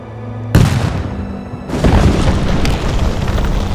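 Cannon fire in the Age of Empires 2 game: a sudden loud boom lands and rumbles away, then a second heavy blast follows with a long, dense roar of echoing explosions.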